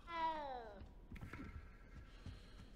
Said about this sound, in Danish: Se den lille missekat, hvor er den sød.